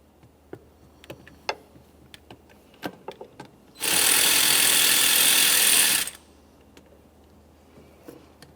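An 8mm hose clamp on the air inlet tube of a 2007-2017 Jeep Patriot 2.4L is loosened, with sharp ratcheting clicks, then a loud two-second burst of power-tool whir, then more scattered clicks, close up and without talk.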